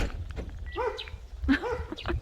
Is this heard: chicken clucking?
no